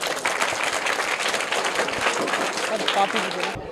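A school audience claps loudly for a prize winner at an award presentation, a continuous crowd of hands with faint voices mixed in, ending abruptly.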